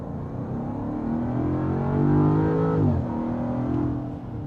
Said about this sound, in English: I hope my lapel mic picks up that exhaust note